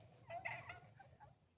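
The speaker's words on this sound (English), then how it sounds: "More of our chickens. This one follows me everywhere." A backyard chicken gives a short, faint cluck and a couple of soft follow-up notes close by, alone in a quiet yard.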